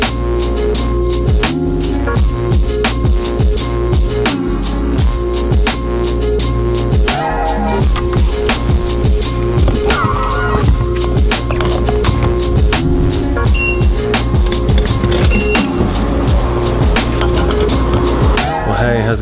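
A motorcycle fitted with Brembo floating discs rides along, its loud steady engine drone and road rumble continuous throughout with shifting pitch and wind noise.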